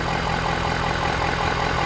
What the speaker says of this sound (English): Engine's still running.